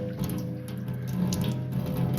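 A tap runs steadily and something fills up in an old French château, a continuous close hiss and splash of water with faint bubbling, heard alone without speech.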